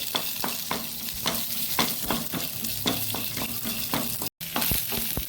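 Chilies frying in oil in a pan for a capsicum chutney, a soft continuous sizzle with regular scraping stirs and taps of the spoon, close and fairly quiet, with a brief dropout near the end and no talking.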